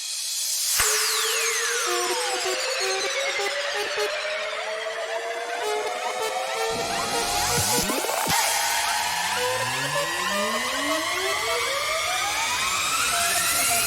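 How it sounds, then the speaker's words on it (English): Layered build-up effects in a dance track: filtered white-noise risers, uprisers and downrisers sweep up and down against each other, a dense, loud, continuous whoosh of gliding tones with no voices. "being filtered to the brim alongside a lot of uprisers and downrisers"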